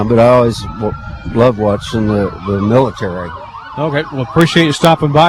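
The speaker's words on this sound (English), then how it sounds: "You can hear the sirens in the background," Law enforcement vehicle sirens wail faintly in the background at a Christmas parade in Junction City, a thin rising and falling tone running beneath close conversation between two people.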